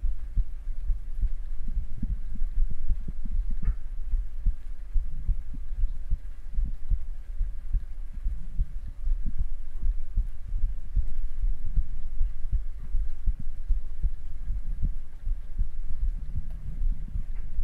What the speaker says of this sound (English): What do you feel when you hear my heartbeat?